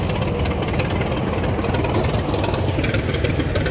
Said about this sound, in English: 10-ton track-type tractor.